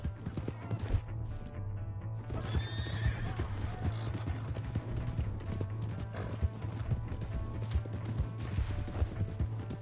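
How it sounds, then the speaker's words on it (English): In the video game Red Dead Redemption 2, a horse whinnies loudly while its hooves clip-clop in a steady rhythm over a low hum, with brief voices and clatter mixed in. "Hey, that's my horse!"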